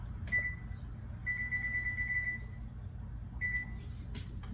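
An oven control panel beeps while the temperature is set to 375 degrees, with a faint tone and a quick run of short repeated beeps, then one more beep later over low background hum.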